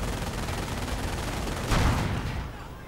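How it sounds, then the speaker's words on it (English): A Hellcat tank destroyer in a real-time strategy war game fires a few shots at a machine-gun bunker, a steady din of battle crackle with a sharper burst of gunfire near the end. "the Hellcat once more moves in to get off a few shots on the MG Medic Bunker."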